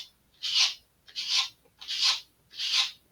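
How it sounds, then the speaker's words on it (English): Four even, raspy strokes of a sanding block rubbing across balsa wood, each about half a second long with short pauses between, close and fairly quiet. "we're just going to round over the side with our sanding block"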